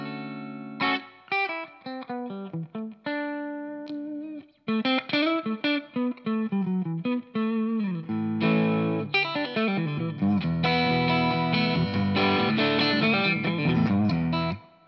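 Electric guitar through a Laney Lionheart L5 Studio Class A valve amp with the treble turned up full, playing a run of loud, bright, distorted phrases and chords with effects, building to a dense strummed passage before stopping.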